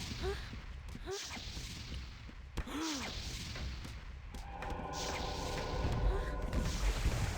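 In the video game Ultima Online, galleon cannons fire in sharp booming blasts with whooshing projectiles, heard as a few separate shots over a constant ocean wash and game noise.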